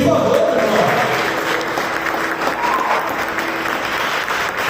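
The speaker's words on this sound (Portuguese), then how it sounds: "Quem crê nisso, aplaude, Senhor" A church congregation applauds together, a dense sustained wash of clapping from a crowd that holds steady for the whole stretch, with faint voices mixed underneath.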